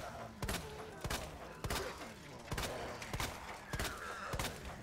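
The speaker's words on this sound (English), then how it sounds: "Let's see if we can shoot their feet." Gunfire in Resident Evil 2 Remake: six heavy, evenly spaced shots boom out one after another at a steady rhythm, each with a short echoing tail, over a low background of game ambience.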